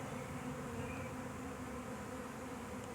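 A swarm of honey bees hums in a dense, continuous buzz outdoors, the many wings blending into one steady drone at low to moderate loudness with no talking.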